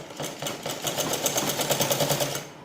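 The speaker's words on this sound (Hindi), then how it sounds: "अब ये वाली सिलाई लगा दूँगी मैं" Sewing machine stitching the seam of a cancan petticoat, a steady rapid mechanical rattle of needle strokes running throughout, close and fairly loud with a slight speed-up midway.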